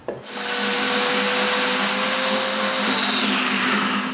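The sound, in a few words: drilling holes in walnut frame pieces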